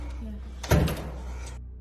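An apartment door opens with one sharp mid-clip thump and a brief rattle, then falls quiet against a low hum.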